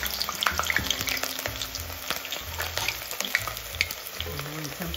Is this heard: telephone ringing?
no